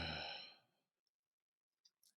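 A single drawn-out yawn up close, loud at first and trailing off within a second, followed by near silence and a couple of faint breathy clicks.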